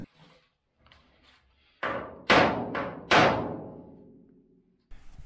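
Brass driver hammered against a VW Beetle door hinge pin to drive it out, four sharp metallic strikes with ringing decay in an uneven rhythm, close and loud, after a few quieter taps.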